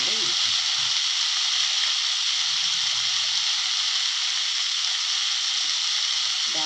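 Mint leaves frying in hot oil, a loud steady sizzle and hiss that runs without a break, with a faint voice murmuring underneath.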